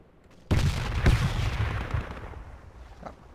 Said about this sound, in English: Fucking grenades everywhere.